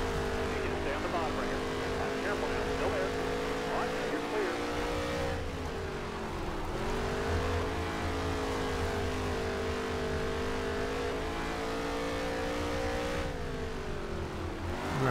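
Race car engines in the NASCAR Heat video game on a dirt oval, a steady loud drone with rising and falling revs as cars run in traffic, continuous through the whole stretch with some voice underneath.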